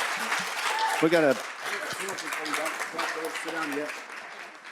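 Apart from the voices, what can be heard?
audience applause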